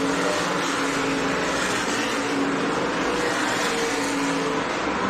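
Stock race cars thunder down the front stretch at the Race of Champions 150, a loud, continuous engine roar with a steady droning tone and no break.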